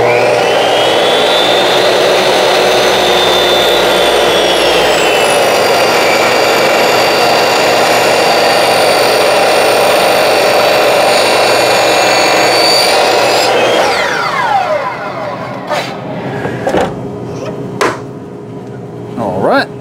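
Power saw cutting angled wood pieces for a gun rack, a loud sustained close whine that holds steady for about thirteen seconds, then winds down, followed by a few sharp knocks and clatter.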